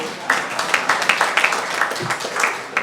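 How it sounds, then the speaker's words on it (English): An audience at a regional leaders' retreat in Uganda claps in a brief burst of applause, lively and close, with scattered individual claps standing out. "Please clap for me."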